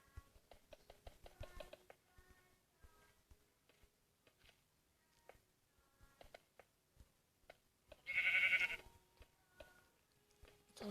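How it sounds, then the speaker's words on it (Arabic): A goat bleats loudly once in a city-building video game, a short strained cry standing out over sparse ticking and clicking game sounds that are otherwise quiet. "صوت ماعز يقدر شفته الحين"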